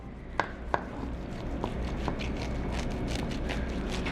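Knife carving through a roast Thanksgiving turkey with crispy skin, a few sharp crackling cuts followed by quieter repeated scraping and crunching, close and soft.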